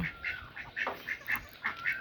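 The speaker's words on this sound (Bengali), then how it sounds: "এই যে হাঁস সকালবেলা ঘর থেকে বের হয়ে গেছে আবার আসছে খাওয়ার জন্য" Ducks on a rural farm come back to feed in the morning, giving about eight rhythmic quacks at moderate distance, fairly soft, with no talking.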